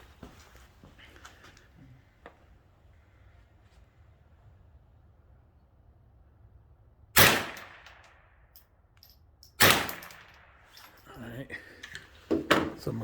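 Two sharp .22 LR rifle shots of CCI standard rounds ring out against metal targets, each a loud crack with a short ringing tail, a few seconds apart amid quiet outdoor ambience and faint movement, with more clatter near the end.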